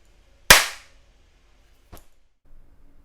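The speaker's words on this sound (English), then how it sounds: "this is what it sounds like in a room that is not treated for sound" A single sharp hand clap rings out in an untreated home recording room, with a bright smack and a noticeable decaying tail of reflections, followed by a fainter second tap. No one speaks.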